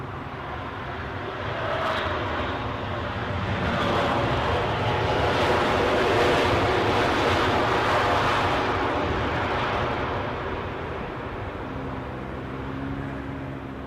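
An Airbus A380 at London Heathrow, its broad engine roar swelling and fading over about fourteen seconds as it passes, loud and continuous with no talk over it.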